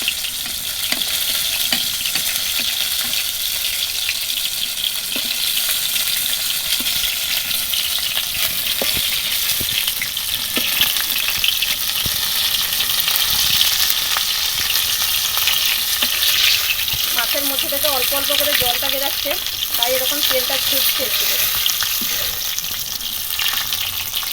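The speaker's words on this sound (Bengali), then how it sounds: "অল্প তেলের মধ্যে খুব সুন্দর করে ভাজা হচ্ছে" Steady, loud sizzling of lote fish (Bombay duck) frying in shallow oil, with occasional spatula scrapes and stirring sounds, no talking.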